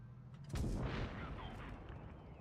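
A heavy tank cannon from an E-50M in a video game fires a HEAT round: one sharp, loud blast with a deep low-end thump, followed by a rumbling tail that fades over about two seconds. No voices are heard.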